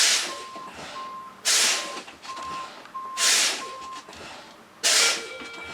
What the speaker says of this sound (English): So I'm going to relieve pressure on the brake system here and see at what point our low air warning device comes on.